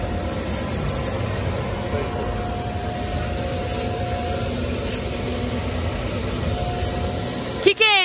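Compressed air blasting dust off a car at a car wash, a loud continuous hissing rush held steadily for several seconds with a few sharper bursts, ending in a brief wobbling squeal.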